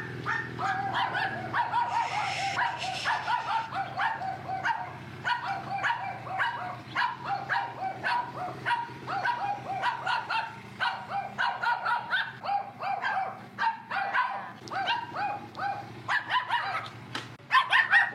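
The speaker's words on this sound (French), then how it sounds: "s'il aboie sans arrêt, regardez, il y en a plein là" A dog barks and yips without pause at a roadside stop in rural northern Thailand. The barks are rapid and insistent, and each one is close and moderately loud.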